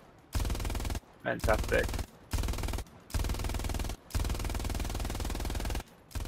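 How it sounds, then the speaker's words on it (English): Bursts of MG42 machine gun hipfire in Hell Let Loose, five long rapid-fire strings separated by short pauses, loud and close, with a brief spoken word over the second burst. "The hipfire mechanic for the MG42"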